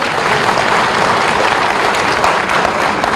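Teachers applaud at a ceremony at the R.C.V.P. Noronha Academy, a dense, steady burst of clapping from a sizable crowd heard close and loud for a few seconds.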